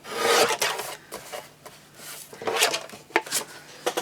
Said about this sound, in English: So I'm going to trim it down to 3 1/4